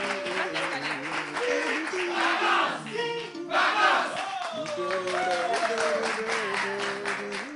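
A studio audience cheers and applauds loudly as guests take their seats at a live French game show, with crowd noise sustained throughout and presenters' voices and music-like tones running over it.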